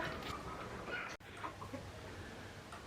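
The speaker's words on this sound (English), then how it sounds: "let me show you these American breed chickens that we hatched out from our American breed chickens" American breed chickens hatched on a farm, a few soft clucks and short calls scattered at close range over low yard noise, with a brief dropout midway.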